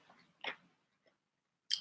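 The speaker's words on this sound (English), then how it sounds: "sorry guys, I'm chewing a lot." Someone eating a vegan burrito mukbang-style makes a few soft, sporadic chewing and crunching sounds, close but faint, with quiet gaps between them.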